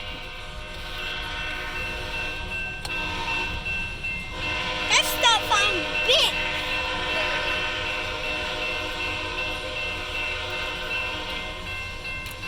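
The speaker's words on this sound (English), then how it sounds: "Now you'll catch the full train." A CSX freight train with two engines and a distributed power unit rolls past with a steady low rumble and rattle, while brief squealing wheel or horn tones rise midway and people talk quietly nearby.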